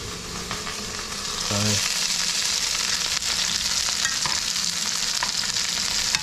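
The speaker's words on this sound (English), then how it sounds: "Just keep turning it until it's all browned up." Sliced steak for Mongolian beef searing in a hot pan while being turned, a loud continuous sizzle that swells after a moment, with scraping and clinking of the utensil against the pan.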